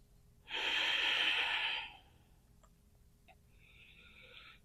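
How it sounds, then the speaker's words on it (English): A single forceful breath during a yoga exercise, a loud breathy rush lasting about a second and a half, followed by faint clicks and a quieter hiss, close to the microphone. "Just keep that breathing coming."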